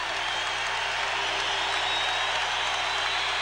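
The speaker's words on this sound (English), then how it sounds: "That gets the crowd back on their feet." A hockey crowd at a Canadiens and Bruins game in Boston in 1991 applauds and cheers after a goal, a steady, even wash of clapping and voices heard from a distance at moderate volume.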